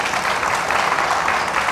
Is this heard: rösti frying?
no